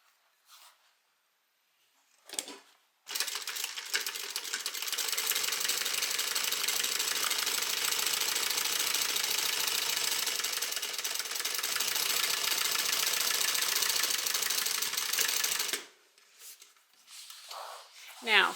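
A sewing machine stitches a half-inch seam on an evening bag, a steady, close, mechanical whirr running about thirteen seconds, with brief handling noises before and after.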